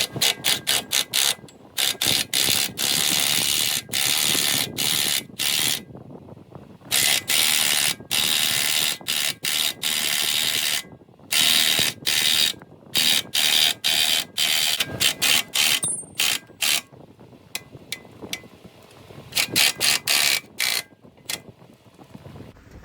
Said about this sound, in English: So now, as I extend this down, we should be able to get the strut out without too much issue.